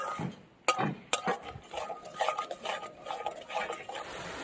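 Spice masala being stirred and fried in a pan for a crispy fish curry made with rohu, a spoon scraping and clinking against the metal in quick uneven strokes over a soft sizzle, close and without talk.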